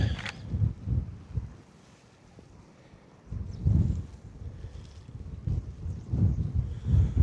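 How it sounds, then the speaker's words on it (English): Strong gusty wind buffeting the microphone beside a lake at Nant y Moch, rumbling in uneven bursts with a short lull, no voices. "Yeah, it's that wind,"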